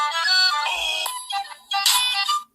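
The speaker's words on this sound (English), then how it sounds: "Text message." A phone's text message alert tone rings out loud and close, a bright melodic chime in two short bursts with a brief gap between them, and no talking over it.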